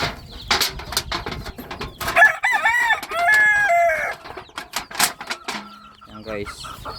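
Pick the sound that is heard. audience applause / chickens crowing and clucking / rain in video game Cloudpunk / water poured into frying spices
chickens crowing and clucking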